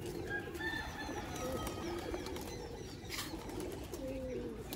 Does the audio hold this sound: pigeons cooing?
yes